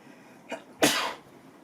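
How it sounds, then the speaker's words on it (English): One sharp sneeze bursts out close by, preceded by a short inhaling catch, then fades into a quiet room. "apologies for sneezing like that"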